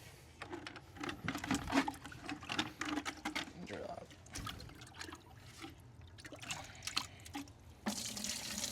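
Water is poured into a small 2-quart bucket before mixing floor-heating compound, a splashing trickle running close by with clatter and a voice talking over it.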